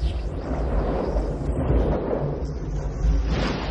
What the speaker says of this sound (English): All those churning clouds have sparked an electrical storm.